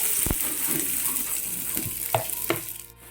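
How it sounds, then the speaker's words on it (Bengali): Chopped onions sizzle and crackle steadily in hot oil in a pan, with a few sharp pops and spatters, then the frying settles toward the end. "দিয়ে দিলাম তেলের মধ্যে এই যে পেঁয়াজ চপ করে রাখা পেঁয়াজগুলো"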